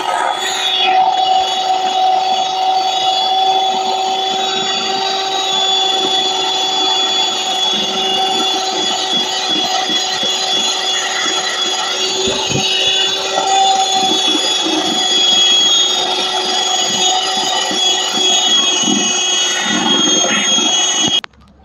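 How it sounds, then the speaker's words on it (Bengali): An electric beater whisks an egg with sugar and salt in a bowl for a palm fruit cake. Its loud, steady motor whine holds for about twenty seconds and then cuts off. "এবার এটাকে বিট করে নেব পিটার মেশিন দিয়ে"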